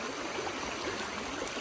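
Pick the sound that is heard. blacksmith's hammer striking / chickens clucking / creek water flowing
creek water flowing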